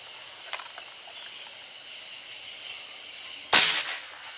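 A Rossi R8 air rifle charged to 200 bar fires a single shot: a sharp, loud hiss-crack near the end after quiet ambient noise, followed by a short fading tail.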